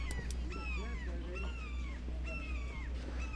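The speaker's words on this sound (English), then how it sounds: "So we hear a bird in the distance" A bird calls repeatedly in the distance during an outdoor club tennis match, several drawn-out, descending cries spaced about a second apart over a steady low background hum.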